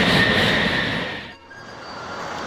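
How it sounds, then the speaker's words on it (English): A train passes near a castle beside Lake Geneva, a loud rushing rumble that fades out mid-clip before a quieter outdoor background returns. "Got this train going through the castle."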